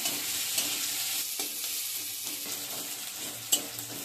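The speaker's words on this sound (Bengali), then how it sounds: "এবার আমি কুচানো পেঁয়াজ দিয়ে দিচ্ছি। পেঁয়াজগুলো লাল লাল করে ভেজে নেব।" Chopped onions frying in oil that already holds a few cumin seeds, a soft continuous sizzle with occasional stirring scrapes and one sharper clink, steady and fairly quiet.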